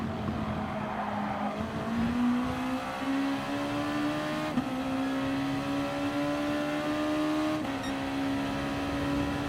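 Race car engines in Gran Turismo Sport, Gr.2 cars at the Red Bull Ring, drone loud and steady with a rising whine as they accelerate, two brief gear-shift breaks, and faint tyre noise under the continuous roar.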